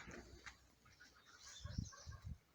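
Soft, high chirping peeps from small chicks being moved into a new cage, scattered through the clip, with low thumps and shuffling below.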